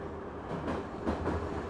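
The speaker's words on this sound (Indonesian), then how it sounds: "Ada suara kereta api ya kayaknya." Train rumbling past in the horror game Only You Are Here, a steady low clattering drone with a few louder surges, heard alone.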